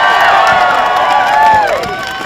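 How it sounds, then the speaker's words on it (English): An outdoor crowd at a solidarity gathering on a village green chants and cheers loudly together, many voices rising and falling in unison before tapering off slightly. "I never thought that I would hear a crowd chanting, "Science! Science! Science! Science! Science! Science!"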